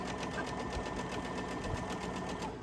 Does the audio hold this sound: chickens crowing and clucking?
no